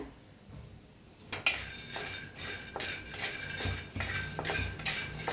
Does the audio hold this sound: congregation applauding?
no